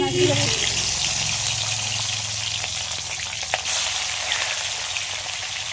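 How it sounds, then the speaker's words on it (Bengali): Tilapia fish fry in hot oil with a steady, close crackling sizzle and a few light scrapes and pops. A short muffled voice-like sound is heard at the very start. "মাছগুলো একটু হালকা লাল লাল করে ভেজে নিলাম, বেশি কড়া করে ভাজবো না, জ্যান্ত মাছ তো।"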